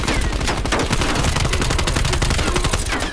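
Dense, loud gunfire from the video game Call of Duty: Black Ops Cold War, with rapid automatic shots cracking continuously for about three seconds and no talk over them.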